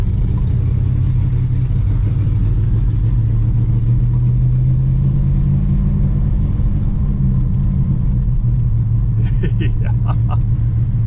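Loud, rumbling engine of a 1966 Pontiac Grand Prix barn find, flooded with fuel and low on vacuum, running roughly and unevenly close by, with a brief voice near the end.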